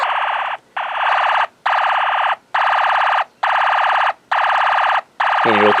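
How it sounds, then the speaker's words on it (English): A Snap Circuits alarm IC, triggered by darkness on a photoresistor, produces a machine-gun effect: a loud electronic rattle in about seven even bursts separated by short gaps. "we'll get the machine gun sound effect out of the alarm IC"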